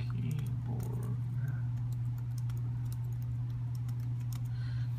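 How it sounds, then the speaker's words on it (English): Quick, light keyboard clicks tap away at a steady pace over a constant low electrical hum. "So you can actually get to type in pretty fast on a one-handed keyboard."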